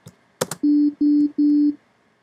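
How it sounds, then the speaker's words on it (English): A retro digital mono synth effect made in GarageBand plays three short, steady, buzzy tones in an even rhythm after a brief blip, clean and fairly loud against silence. "I made a retro sound digital mono effect."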